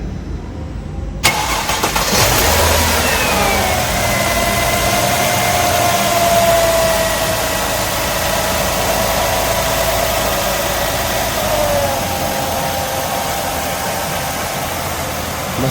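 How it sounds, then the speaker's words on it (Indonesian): A Mercedes-Benz W211 E260 engine cranks and starts with a sharp burst, revs up briefly, then settles into a smooth, steady idle close by. "suara mesinnya halus banget"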